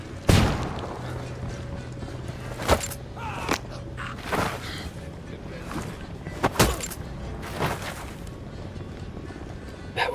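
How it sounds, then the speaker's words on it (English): A flashbang grenade goes off in Ghost Recon Wildlands amid scattered sharp gunshots and bangs, with a voice talking over the action. "throwing a flashbang"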